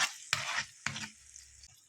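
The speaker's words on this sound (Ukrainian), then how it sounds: "І все гарно перемішуємо." Two quick scraping stirs in a frying pan of food with tomato paste, each a short burst of clatter over a faint sizzle, then quieter simmering.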